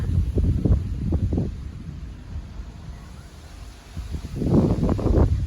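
Strong wind buffeting the microphone outdoors under a stormy evening sky toward Lucerne, with low rumbling gusts rising and falling in bursts, loudest at the start and end.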